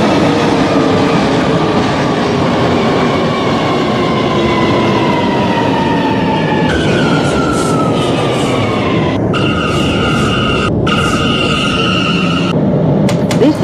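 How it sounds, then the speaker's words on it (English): A Brooklyn-bound J subway train in the OpenBVE railway simulator runs loudly and steadily, with a heavy rolling roar and rising and falling motor whine. Tonal pitch shifts and abrupt cuts come through near the end. "This is a Brooklyn-bound J train."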